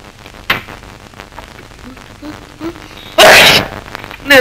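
A single loud, explosive sneeze bursts out near the end of a scene from an old Telugu film, preceded by quiet background murmurs and faint room noise.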